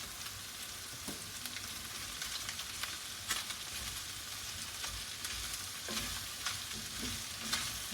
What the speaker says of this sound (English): Here's where I'll add my mushrooms, and we're going to let them sweat down.